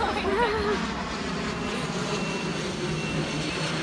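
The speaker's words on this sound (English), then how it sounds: "sorry, there's a plane overhead." An airplane passing overhead near a downtown airport, a steady broad engine rumble heard under a person's talking.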